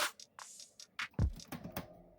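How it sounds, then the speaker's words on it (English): Drum loop in a future bass production, with a deep kick thump and scattered crisp hi-hat and snare-like hits in a sparse, loose rhythm, fairly quiet and with no voices. "add a drum loop like this one"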